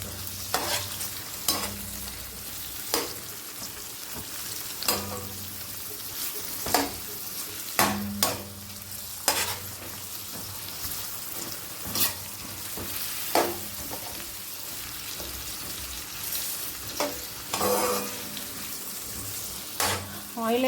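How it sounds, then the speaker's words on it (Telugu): Cauliflower frying in a little oil, a soft continuous sizzle broken by repeated clacks and scrapes of a spoon turning the pieces against the pan, near and without talk. "కొంచెం కొద్దిగా బ్రౌన్ కలర్ వచ్చిన వరకు వేయించుకోవాలి."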